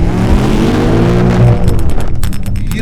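A two-wheel-drive car with a loud engine revs hard and strains during a burnout attempt, its harmonic engine note climbing steadily and close by, followed by rough, pulsing bursts from the engine.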